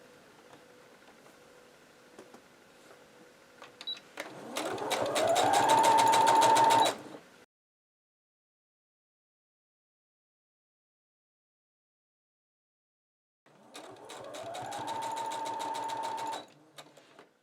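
A sewing machine stitching bunting flags onto bias binding runs in two loud bursts of about three seconds each, separated by a long silent pause, with a rising whir as the motor speeds up.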